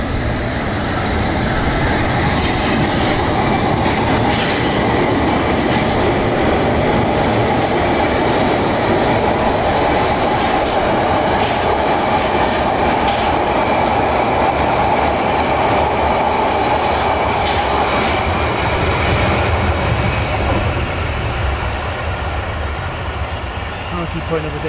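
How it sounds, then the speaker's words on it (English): A London Underground S stock train pulls out of a Metropolitan line station, a loud, steady rumble with rail clatter and wheel noise that continues throughout, while someone talks over it. "I'll just go through this S stock leaving."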